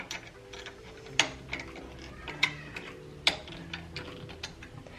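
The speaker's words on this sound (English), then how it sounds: "So here, tighten it a little bit so it doesn't move." Small metal parts being tightened while assembling a Juki DDL-8700 industrial sewing machine, with quiet ratcheting clicks and three sharper metallic taps spread over a few seconds, close and fairly soft.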